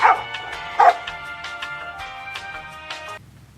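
A dog barks repeatedly at a campsite during an overnight bivouac, with two louder, sharper yips near the start followed by steadier barking that fades after about three seconds into quiet background.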